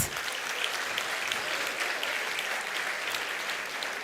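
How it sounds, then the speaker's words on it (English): Sustained applause from an audience at a university convocation ceremony, honoring award winners; steady, dense clapping fills the whole stretch at an even level with no talk over it. "A huge round of applause for all the winners."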